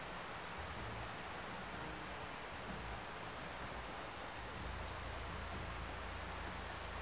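Steady hiss of rain in an NCAA Football video game during a Navy Midshipmen versus Georgia Bulldogs match, a soft, even wash of falling water with no talk.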